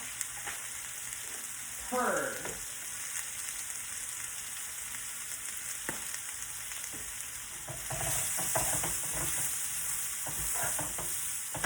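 Onions and garlic sauté in a pan for a Cajun seafood Alfredo pasta, giving a constant close sizzle with a few stirring scrapes and clinks and a louder burst of frying near the end.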